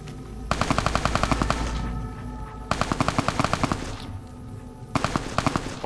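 Automatic gunfire from the video game Fallout New Vegas rattles out in three rapid bursts, each a quick string of sharp shots separated by short pauses, loud and close.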